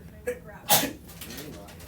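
A single sharp sneeze bursts out mid-clip in a classroom during an algebra lesson, loud and close, with students' casual talk before and after it.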